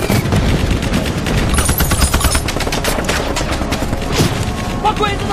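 Battle scene gunfire in a Vietnamese-dubbed war film against Japanese troops: dense, rapid bursts of machine-gun and rifle fire crackle continuously, with occasional heavier booms and shouted voices mixed in.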